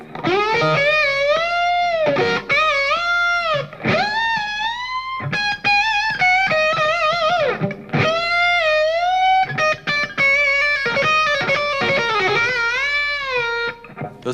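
Distorted electric guitar plays repeated notes that bend up and slide back down, sustained and loud, with no voices.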